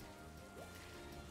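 Steady rain falling in the Pokémon Isle of Armor game's Soothing Wetlands, a constant even hiss with no breaks.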